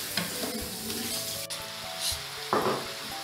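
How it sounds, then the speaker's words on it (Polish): Sliced mushrooms tipped onto onion already softened in butter, frying in a pan with a steady close sizzle, occasional stirring clinks and a louder burst of hiss near the end as the pan is moved. "Do podsmażonej cebulki wsypujemy pokrojone pieczarki."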